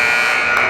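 Loud sustained electronic horn of an end-of-quarter buzzer in a basketball game between the Ohio Bruins and Illinois Bulldogs, one steady blare lasting the whole moment over crowd noise.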